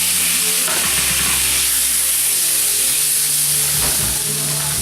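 Seasoned pork frying in a hot cast iron skillet, a loud, continuous sizzle and hiss with faint low hums from the kitchen underneath.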